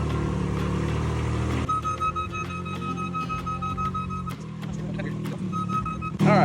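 A boom lift's engine runs steadily during a ride up beside a house exterior, a continuous droning hum with a few scattered knocks and clicks, ending in a brief louder burst.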